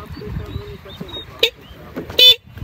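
Motorbike horn giving two short honks, the second louder and buzzier, amid street bustle and someone talking nearby.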